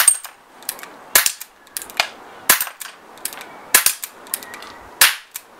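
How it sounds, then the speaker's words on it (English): Walther PPQ .177 CO2 air pistol emptying its magazine: sharp, loud pops fired one after another at an uneven pace, roughly eight shots over several seconds, each with a short metallic ring, with no talking. "But that's still shooting all right, so just empty that mag, Daz, and we'll be done."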